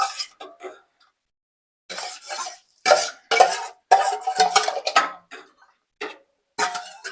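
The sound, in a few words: washed rice being put into hot water in a pot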